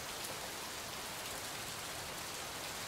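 Steady rain falls in the video game Gemini Rue, an even, soft hiss of drops that stays quiet and constant throughout with no voices.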